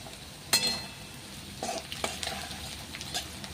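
Nigella seeds tempering in hot oil, a soft crackling sizzle with a sharp clatter near the start and a few spoon stirs and scrapes after, close and fairly quiet.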